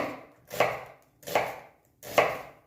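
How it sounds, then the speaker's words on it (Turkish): An onion being cut with a knife on a cutting board for a leek and rice dish, three distinct, evenly spaced close-up chops with brief crisp attacks and quiet gaps between. "Hemen soğanımızı doğramaya başlıyoruz"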